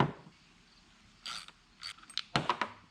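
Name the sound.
removing an 11mm nut from a headlight motor assembly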